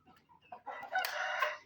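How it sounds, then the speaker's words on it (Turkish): Chickens clucking and squawking nearby, starting with a few soft clucks that build into a louder drawn-out call, no voices. "Evet yeni tavuğumuz burada. Diğerleri onu keşfetme peşinde."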